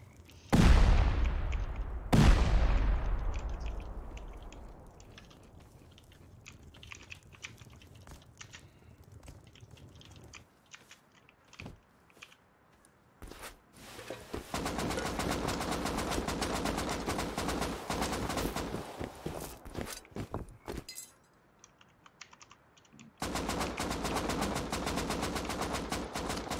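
Gunfire in the survival video game Rust: two sharp shots ring out and decay at the start, then bursts of rapid automatic fire come in loud sustained stretches, with a brief lull before a final burst.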